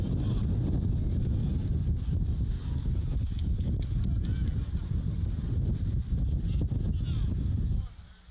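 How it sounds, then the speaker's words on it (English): Heavy low rumbling wind buffets the microphone at an outdoor high school football game, loud and steady, cutting off abruptly near the end. "it's a little bit windy here today"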